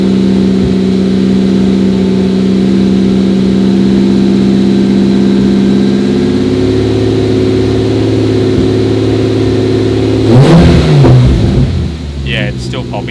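Toyota Supra JZA80 with a 2JZ-GTE engine suffering a misfire, running with steady engine tone before the revs rise and break into rough popping near the end.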